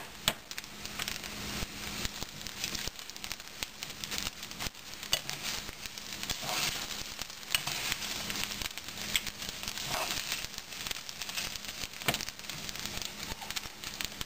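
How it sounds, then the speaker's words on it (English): Garlic cloves and red onions sizzle steadily in a very hot pan while being stirred, a dense, even crackle with faint scraping, continuous and fairly quiet, with no voices. "cloves of garlic and my red onions. I'm going to stir that in there"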